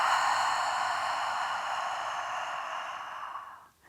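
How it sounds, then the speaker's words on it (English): Long, forceful breath pushed out through the mouth during a yoga breathing exercise, a close, airy rush that stays strong and slowly fades before cutting off near the end. "Exhaling."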